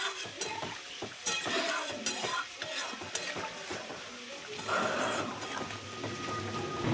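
Water added to masala with potatoes and kohlrabi for a fish curry hisses and bubbles in the pan, a continuous sizzle broken by occasional utensil clatter and scraping.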